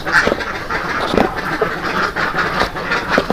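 Several ducks on a duck farm quack repeatedly in a noisy outdoor setting, their calls overlapping at a steady, busy rhythm with constant background hubbub.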